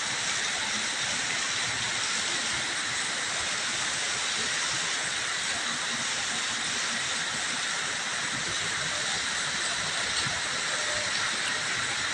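A steady, loud rushing roar like a train rolling past nearby, continuous and unbroken for the whole stretch, with no voices.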